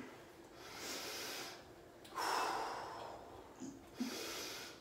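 Heavy breathing during a home workout, slow forceful exhalations and inhalations heard close, with a couple of sharper breath bursts near the end and no talking.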